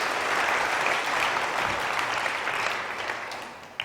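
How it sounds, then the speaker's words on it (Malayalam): A congregation claps together at a night prayer vigil held by a Jesus Youth group in Ireland. The applause is loud and sustained, a dense wash of many hands that tapers slightly toward the end. "ഒന്ന് കൈയടിച്ച് കർത്താവിന് നന്ദി പറയാം."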